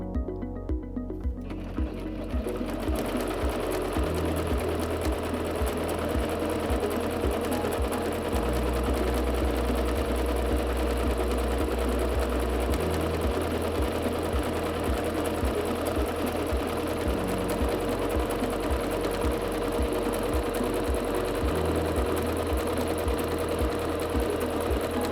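A Singer C5205 sewing machine running continuously with a very short 0.5 stitch length: a fast, even mechanical whirring and rapid needle clatter, close and steady throughout with slight shifts in pitch as it runs.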